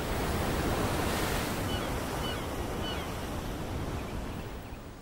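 Stormy ocean waves surge over rocks in a broad, continuous wash of surf that slowly fades toward the end, with wind buffeting the microphone and no voices.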